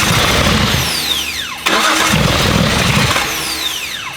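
A Datsun 280Z engine cranks and catches with the key held on, a steady loud whirring churn that surges and keeps running unevenly, heard close up with no talking.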